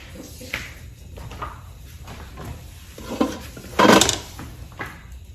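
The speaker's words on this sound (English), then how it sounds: "Then I'm going to add my lid to that." A lid set onto a pot of rice and black beans cooking in coconut milk in a home kitchen, one bright metallic clack standing out among softer utensil and pot sounds.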